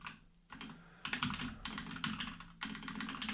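Fingers tap on a computer keyboard entering custom dictionary words in proofreading software, producing quick, close, soft clicking bursts separated by short pauses.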